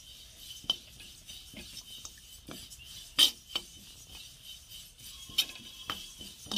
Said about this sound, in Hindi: इस तरह से आगे हम तिल को भून लेते हैं